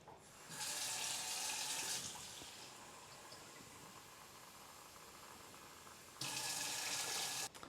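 Water runs from a tap into a pot of quinoa in two bursts of hissing, splashing flow, the first longer and the second starting near the end, with a quieter gap between them and no talking.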